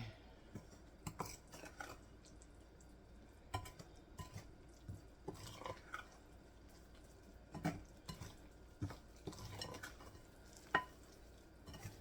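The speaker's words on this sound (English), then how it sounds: "Now you're going to add all of your wet ingredients. And you're going to get that stirred together." Wet ingredients for an oatmeal quick bread being stirred together in a bowl, with a spoon repeatedly clinking and scraping in an irregular rhythm at moderate volume, close by and with no voices.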